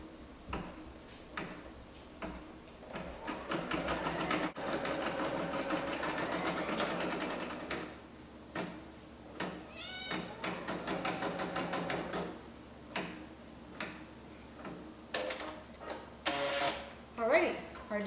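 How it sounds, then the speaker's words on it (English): An embroidery sewing machine stitches metallic thread onto ribbon with rapid, close mechanical ticking and whirring in bursts and steadier runs, with a few louder clicks and someone talking intermittently. "I'm just going to put the presser foot down, and I will start sewing."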